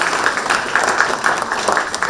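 Conference audience at a climate action plenary session claps for an introduced activist, a steady, dense patter of many hands close and fairly loud throughout, with no voices over it.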